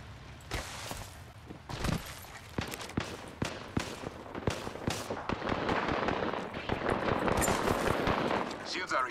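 Rapid gunfire in Apex Legends, with sharp shots from close and farther away coming in quick bursts and scattered single cracks, building into a denser barrage under game voice lines and battle noise.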